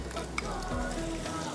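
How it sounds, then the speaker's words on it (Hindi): Chopped onion dropped into hot oil already tempered with cumin, cinnamon, cloves and garlic, giving a steady close sizzle and frying hiss with stirring, a brief clink near the start. "अब इसके अंदर चॉप अनियन डालेंगे"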